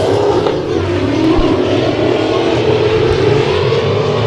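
Dirt track race cars at KCRP roar together on a lap-two restart, a dense, loud, steady engine howl carrying throughout without a break.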